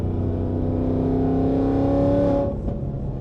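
A Whipple supercharged 2024 Mustang takes a corner on a twisty road with a loud, close engine drone that holds steady, then eases off abruptly near the end.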